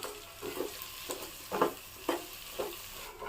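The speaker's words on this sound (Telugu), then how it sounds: "వీటిని కూడా మొత్తం కలుపుకొని మగ్గించాలి" Drumstick pieces being stirred into fried onions in a pan, a series of rhythmic scraping strokes about every half second over a gentle sizzle, close and fairly quiet with no talking.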